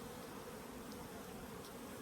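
Honeybees buzzing in a queen-rearing box, a steady dense hum filling the whole stretch, close up and fairly quiet, with no voices.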